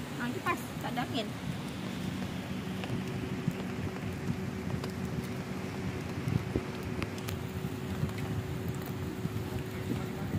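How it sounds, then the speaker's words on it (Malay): Rain falls during beach camping at Batu Layar, a steady faint hiss of drops on surfaces with a low hum underneath, continuous and even throughout. "di tengah-tengah hujan."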